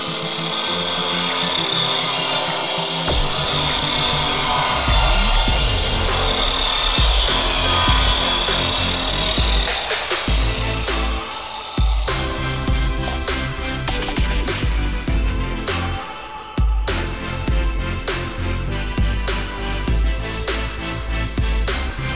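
A wooden piece for a mitre joint is sawn by hand in a workshop, a loud rhythmic rasp of back-and-forth strokes with brief pauses and a few knocks between them, no talking.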